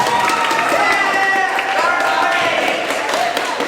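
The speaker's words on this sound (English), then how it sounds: "Round of applause for third place team." A military company at Camp McCain gives a round of applause for the third-place team, a steady wash of outdoor clapping from a crowd with scattered cheering throughout, fairly loud and close.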